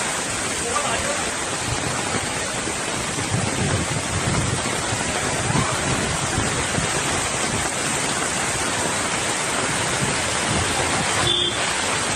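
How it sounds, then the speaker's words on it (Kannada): Heavy torrential monsoon rain pours down in Mumbai in a steady, dense hiss that never lets up. "ಜೊತೆಗೆ ಮಳೆ ಕೂಡ ಧಾರಾಕಾರವಾಗಿ ಸುರಿತಾ ಇದೆ"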